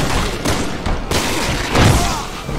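Rapid gunfire and heavy thuds from the co-op shooter Resident Evil 6 burst loudly over a dense wash of game noise, with a brief lull before the firing resumes.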